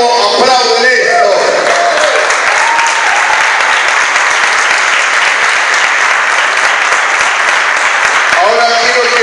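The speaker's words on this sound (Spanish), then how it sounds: "¿Cuánto aplauden esto?" Loud, sustained applause from a large church congregation during a sermon, dense and continuous, with cheering voices mixed in and a preacher's voice at the start and end.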